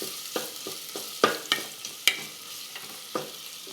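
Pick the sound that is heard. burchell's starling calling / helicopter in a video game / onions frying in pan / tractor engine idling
onions frying in pan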